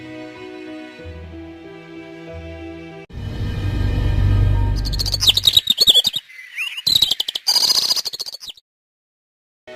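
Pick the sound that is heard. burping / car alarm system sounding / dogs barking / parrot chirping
parrot chirping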